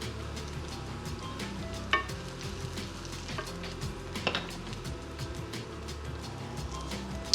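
Day-old cooled rice tossed into garlic frying in a pan, crackling sizzle throughout with repeated stirring scrapes and occasional utensil clinks, close and steady.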